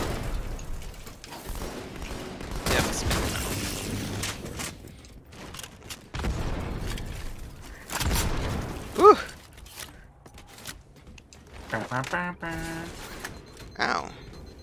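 Gunfire and shotgun blasts in a Halo match crack out in scattered bursts amid game effects, with players talking throughout.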